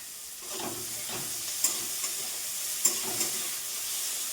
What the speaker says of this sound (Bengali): এই যে আলু পটল ভাজতে দিয়েছি এটা ভাজবো